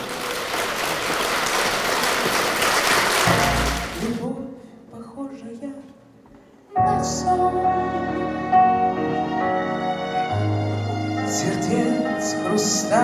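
Audience applause for a singer at a televised concert event in Ishimbay, a dense broadband clapping wash lasting about four seconds before fading, followed by quieter sounds and then music.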